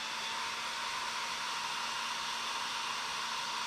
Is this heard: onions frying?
no